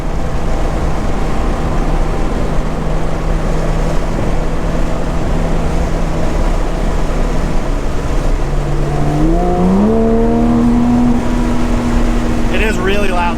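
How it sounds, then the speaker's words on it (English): A Porsche GT3 RS with an MBRP exhaust drones steadily under heavy road and wind noise. The engine note then climbs sharply in pitch as it accelerates hard near the end. "It is really loud though. When I'm wide open throttle"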